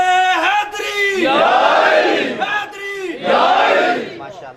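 A crowd chants religious slogans in two loud, sustained rounds, each led by a single raised voice that the massed voices then answer in unison.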